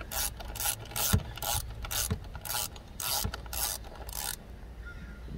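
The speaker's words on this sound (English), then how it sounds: "And grab our 10 millimeter and our ratchet." A ratchet with a 10 mm socket tightens bolts on a 2.4-liter Jeep Renegade, Cherokee or Compass engine during spark plug and coil pack work, giving about ten quick, evenly spaced ratcheting clicks up close before stopping.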